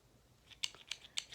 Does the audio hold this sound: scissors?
yes